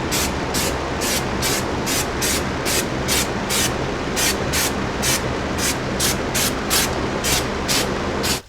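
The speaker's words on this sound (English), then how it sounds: "I'm going to do a few thin coats, let it dry up, and then it'll start building up that nice thick layer of rubber undercoating." Rubber undercoating sprays onto the underside of a Jeep Cherokee XJ unibody in a steady series of short, evenly spaced hissing bursts, loud and close, with no talking.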